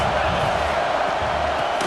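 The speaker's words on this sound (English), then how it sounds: "crowd trying to make life miserable for this offense" A steady stadium crowd roar fills a college football game in EA Sports College Football 26, a constant wash of noise with a voice faintly present beneath it.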